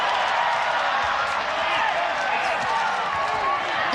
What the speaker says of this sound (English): This crowd going nuts for Tiffany Teo every time she drives the knee into the face of Mong Bo